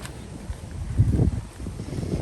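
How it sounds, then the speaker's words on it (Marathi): Strong, cold winter wind in the Netherlands buffets and rumbles in low gusts, swelling briefly and then easing, with no voices. "वारं सुटलंय खूप"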